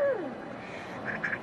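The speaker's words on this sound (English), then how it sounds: "It's a duck having sex." A duck gives a short descending quack at the start, then faint nasal calls follow, heard fairly close in a quiet setting with no talking.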